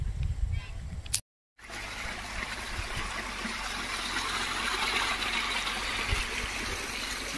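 Water gushes from a hose onto freshly planted yellow marigolds on a farm, a steady broadband rush that cuts out briefly near the start and then flows on continuously, fairly close.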